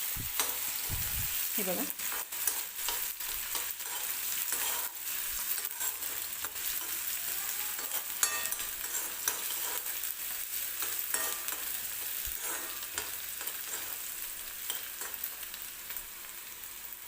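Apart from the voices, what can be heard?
onion sautéing in a pan with curry leaves and green chili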